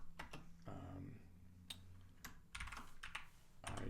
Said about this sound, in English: And we'll just type this quickly.